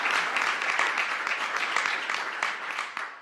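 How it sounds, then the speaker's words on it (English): Sustained applause from a crowd, a dense steady patter of clapping that tapers slightly toward the end. "You can give her another round of applause."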